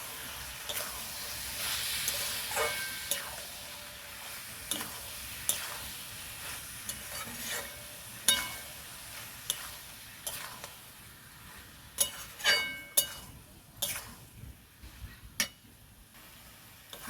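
Meat ghugni with fried potatoes being sautéed in a pan, a steady close sizzle with sharp clicks and scrapes of a spatula stirring, growing busier near the end.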